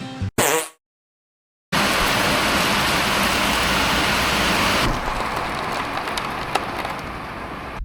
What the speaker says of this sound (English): started raining a little bit